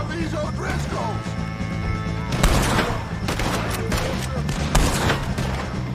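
Gunfire erupts in a Western video game shootout against O'Driscoll gang members, with several loud, sharp bursts of shots and a crash over a rumbling game soundtrack, while voices shout nearby.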